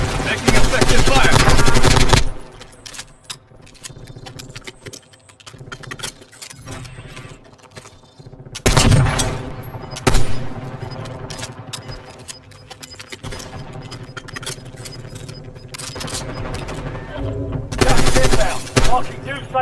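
Loud bursts of machine gun fire come from a video game, with long sustained volleys at the start, middle and end and scattered single shots and clicks in between. A voice speaks briefly.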